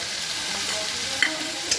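Spices with salt and turmeric sizzle and fry in a hot pan, a steady close hiss with a couple of faint clicks from stirring.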